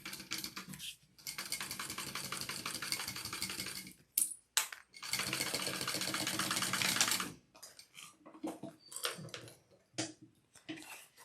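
A sewing machine stitches the back piece seam of a garment in two long, steady runs of rapid whirring, with short clicks, handling noises and pauses between and after.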